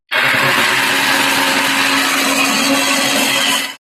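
Mixer grinder grinding masala for a potato roast, a steady loud whirring buzz running unbroken for about four seconds before cutting off abruptly.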